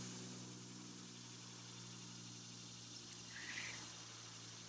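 A car passes outside, heard as a faint, steady engine drone with a slight swell partway through, distant and muffled behind an indoor room hum.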